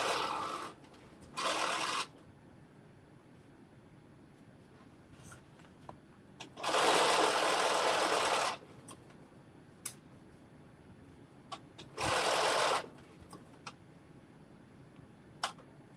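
A sewing machine stitching the midriff of a dress, running in three short bursts with pauses between them, interspersed with small ticks and handling clicks, fairly quiet.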